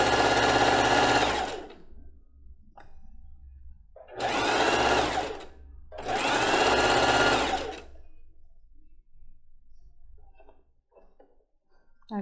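A sewing machine stitches fabric for children's panties in three loud, close bursts of rapid mechanical whirring, separated by quiet pauses with faint handling noises.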